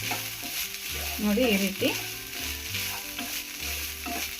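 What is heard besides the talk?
roasting grated coconut in ghee on the stove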